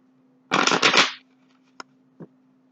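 Tarot cards riffle-shuffled up close for about half a second in a quick burst, followed by two soft isolated taps of cards, with a faint steady hum underneath.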